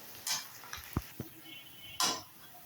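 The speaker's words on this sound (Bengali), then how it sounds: "পেঁয়াজটা দেওয়ার পরে এখন আমি পেঁয়াজটা নেড়ে চেড়ে নিচ্ছি।" Onions stirred in a frying pan as they brown for a chicken curry: a few sparse, quiet scrapes and clicks of the spoon over a faint, low sizzle.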